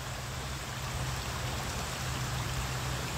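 A creek flowing steadily nearby, a dense even rushing hiss of water with no pauses or voices.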